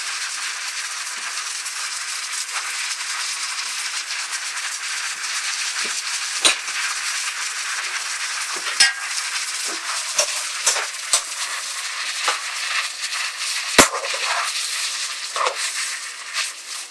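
Chow mein noodles stir-frying in a pan, a steady loud sizzle with scattered clicks and scrapes of the utensil throughout.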